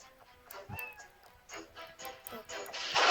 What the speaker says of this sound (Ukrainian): Там котик м'явкає, бігає.